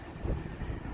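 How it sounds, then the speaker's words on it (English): Brief gusty wind buffeting a microphone, a low rumbling roar with no voices. "It is too windy."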